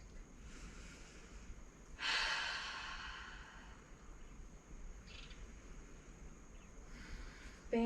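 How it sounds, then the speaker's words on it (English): A single long, audible exhale of a cleansing yoga breath rises suddenly and then trails off slowly, soft and close, over a faint steady background hum. "Cleansing breath."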